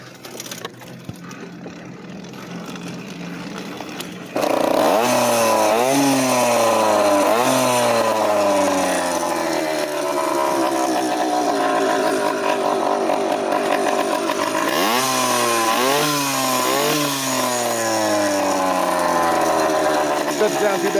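Small engine of a motorized bicycle revving loudly while riding, a buzzing two-stroke whine that rises and falls in repeated throttle surges over wind noise after a quieter start.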